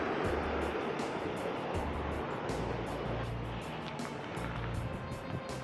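Waterfall on the forest path up to Yongchusa temple, heard from above as a steady, broad rushing roar of falling water that holds constant throughout with no voices.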